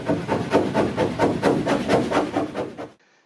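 Chisel scraping and chipping during a window install in a RAM ProMaster van build, a steady run of about a dozen rhythmic rasping strokes, close and fairly loud, stopping abruptly near the end.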